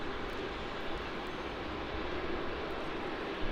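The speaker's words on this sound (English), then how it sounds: "we have the Jetstar Airbus A320 departure off to Launceston" An Airbus A320 of Jetstar departs Melbourne Airport on its way to Launceston, giving a steady, fairly faint broadband jet roar that holds level throughout with no voices.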